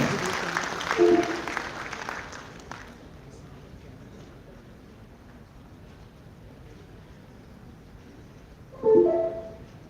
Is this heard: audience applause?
yes